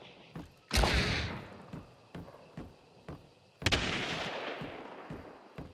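Bots fire guns in a video game: loud sharp gunshot blasts with long booming tails, two big bursts amid several smaller thuds and shots at irregular intervals, with no talking.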